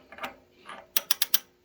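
A ratchet wrench with a 1 3/16 socket tightens a powered anode rod into a Rheem water heater, giving four quick, sharp metallic clicks in a steady burst, close and crisp after some softer handling noise.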